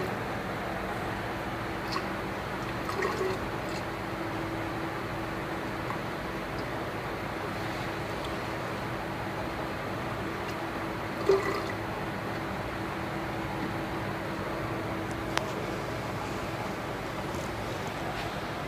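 Distilled water being poured into a grain product in a lab, a soft continuous liquid trickle at low level with a few faint clinks, running steadily with no talk.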